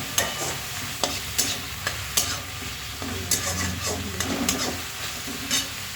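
Apple snails frying with onion and garlic in a pan, a steady sizzle broken by repeated scraping stirs of a spatula, close and fairly loud, with no talking.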